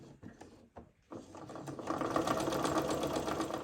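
A sewing machine stitches a quarter-inch faux hem on fabric strips, starting with a few hesitant bursts before settling into a steady, close, whirring run.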